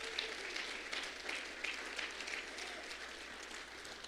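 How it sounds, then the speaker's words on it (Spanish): A church congregation at a worship service breaks into steady applause, sustained and fairly distant, a dense wash of clapping with no single hands standing out. "Dale un aplauso al Rey de Reyes y Señor de Señores"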